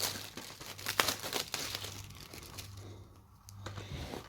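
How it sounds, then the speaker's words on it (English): Plastic wrap crinkles and tears close up as it is peeled off a Godzilla Blu-ray and 4K Ultra HD case, in short bursts of rustling with a quiet pause near the end. "let's remove the plastic"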